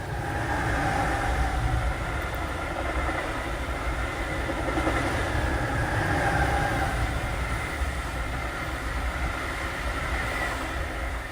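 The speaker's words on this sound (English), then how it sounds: "So I'll do the train next." A commuter train rumbles past nearby, a loud, continuous roar with faint clattering of wheels on track, steady from start to finish.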